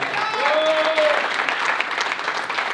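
Steady applause fills a hall as a Round Table India audience honours a member, dense and continuous throughout, with a brief cheer or whistle near the start rising above the clapping.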